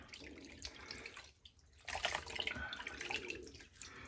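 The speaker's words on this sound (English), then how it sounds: "rinse out the brush, get all the soap lather into the" Shaving brush rinsed under a running tap after a straight razor shave, washing soap lather out; a steady broadband splash of water that swells louder midway and keeps going, close by, with no talk.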